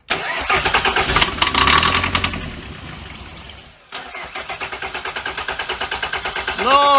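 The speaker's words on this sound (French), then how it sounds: "il avait démarré le moteur" A BMW 318tds diesel engine cranks over rhythmically and catches, then settles into a loud, close idle with a steady pulsing diesel knock.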